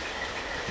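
A train rolls past in Salamanca, New York, a steady close rumble of rail cars with a broad hiss of wheels on track and no pauses.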